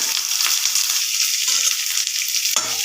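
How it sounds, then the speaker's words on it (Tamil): Onions, green chillies, garlic and curry leaves frying in hot oil with mustard seeds, a steady close sizzle with occasional stirring scrapes. "நல்லா வதக்கிக்கோங்க."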